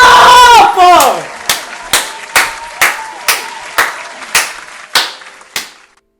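A short vocal sound opens, then about nine sharp claps follow at an even, brisk beat, each ringing briefly and fading as the sequence slows and softens at the end.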